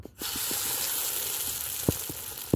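A sesame-coated Egyptian ta'meya falafel patty slides into hot oil, and a loud, steady sizzle starts at once and continues evenly, with a few faint pops and knocks near the end and no speech.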